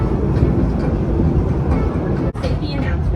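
Theme park train rolling along its rails, a steady dense rumble with rattling underneath and one brief clunk near the end, continuous and close from on board, with faint voices in the background.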